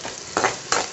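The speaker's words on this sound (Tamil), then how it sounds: "வெங்காயம் நல்லா பொன்னிறமாக வதங்கட்டும்" Onions sautéing golden in a pan for garlic powder rice, a close continuous sizzle with two louder stirring scrapes partway through.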